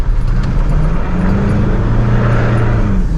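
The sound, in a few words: vehicle with Cummins 2.8 engine driving on gravel road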